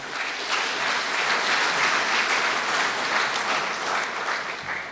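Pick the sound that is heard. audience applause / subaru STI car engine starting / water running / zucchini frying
audience applause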